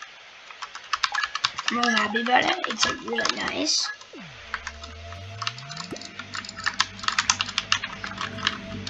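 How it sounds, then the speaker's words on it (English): Rapid clicking keystrokes on a new computer keyboard, close and fairly loud, with a person talking over the start and some brief whooshing sounds mid-way. "I got a new keyboard."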